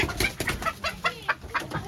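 A rooster on a village farm of native chickens clucks in a quick series of short, close, evenly spaced bursts, with soft farmyard background noise and no talking.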